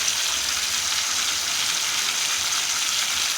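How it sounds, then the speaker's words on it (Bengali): Ground turmeric, cumin and dried chilli fry in hot oil for a ramen-free Bengali chhana curry, giving a steady, dense, close sizzle that holds evenly throughout with no voices. "ভালো করে ভাজা ভাজা মশলাটাকে ভেজে নেব"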